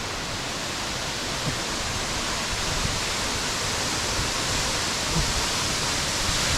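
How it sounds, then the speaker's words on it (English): Loud, steady rushing of a waterfall, a dense unbroken roar of falling water up close. "Just coming underneath the waterfall."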